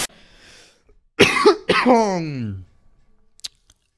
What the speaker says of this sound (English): it's not good when you cough and there's chunks coming up